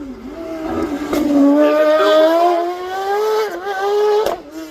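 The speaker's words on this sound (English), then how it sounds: "Built in Spain, motorbike engine, and it just revs and revs." A Spanish-built hillclimb race car with a motorbike engine screams past at the Craigantlet hillclimb, its engine revving high and rising through rapid gear changes, loud and close, with the pitch sweeping upward.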